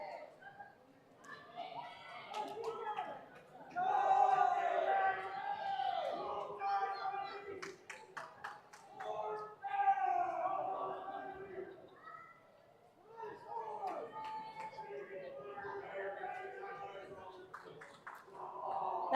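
The team manager cheers and shouts for a swimmer finishing the last lengths of a 200 freestyle race at a high school swim meet, his voice rising repeatedly over a noisy, echoing natatorium crowd with children's voices and scattered clapping.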